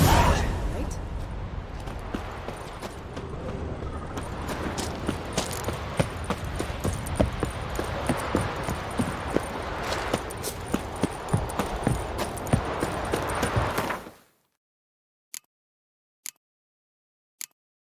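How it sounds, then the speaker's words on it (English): Horse hooves gallop across ground in The Witcher 3 video game, a rapid, steady clip-clop rhythm layered with tack jingle under game sound, then cutting off abruptly to near silence broken by a few sharp taps. "Whoa there, Roach."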